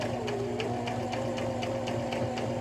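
Sewing machine stitching along the edge of a baby burp cloth made from a diaper, a steady rapid mechanical whir with a regular clicking needle rhythm, close and continuous.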